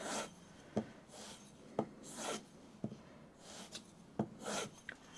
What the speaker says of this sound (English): So we're just going to work this on the strop a few times.